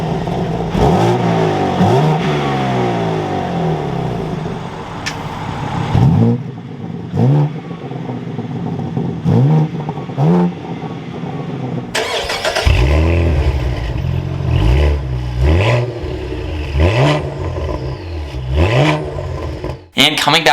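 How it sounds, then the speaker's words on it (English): A 2022 BMW M3 or Cadillac CT4-V Blackwing sports sedan engine revs repeatedly, rising and falling in rapid bursts, then grows louder and deeper with aggressive exhaust roars and crackles. "let's take a listen to the exhaust notes for both of these models."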